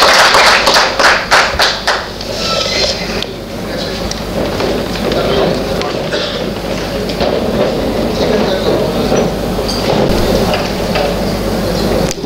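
Audience applause for the speaker at a Ganeshotsav lecture series in Solapur, sustained and dense crowd clapping that carries on steadily for the whole stretch without any talk over it.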